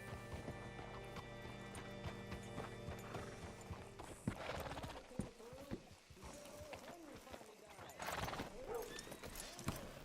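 Horse hooves clip-clop on ground in Red Dead Redemption 2, with a neigh; the rhythmic hoofbeats slow and stop partway, followed by scattered thuds and someone talking under game ambience.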